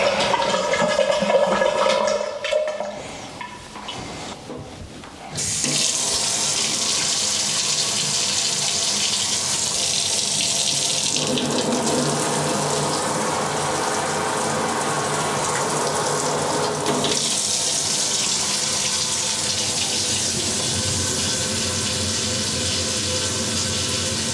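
Water rushes steadily from a tap for a long stretch, loud and continuous with a slight shift in tone partway through, no talking.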